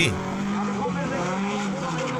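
Baja Bug race car with a swapped Volvo red block engine and about 200 horsepower, a loud, continuous engine roar with tire noise, close and sustained throughout.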